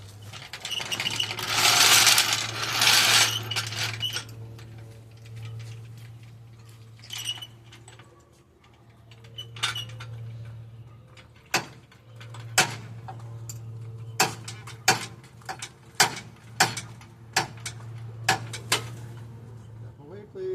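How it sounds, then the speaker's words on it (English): Truck wheels raised off the ground with a jack, a series of sharp metallic clicks and ratchet strokes spaced through the second half over a steady low hum, with a burst of broad noise early on. "I'm going to jack up both wheels"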